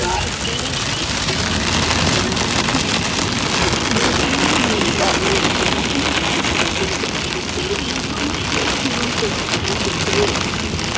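Steady broadband rain hiss during an Oklahoma storm chase, loud and continuous throughout, with faint voices and possible vehicle noise mixed underneath.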